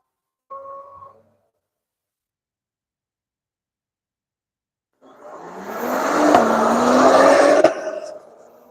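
Acura TLX race car pulling away on the Nelson Ledges track: after a brief tone and a long silence, the engine note rises in pitch through the gears, loud and close, then fades as it leaves.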